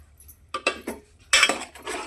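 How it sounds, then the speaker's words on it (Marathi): A spoon clinks and scrapes inside a clay pot while misal curry is stirred, giving a few short irregular knocks followed by a longer rustling scrape, close and fairly quiet. "मटक्यात असे हलवून घेऊया मिक्स करू"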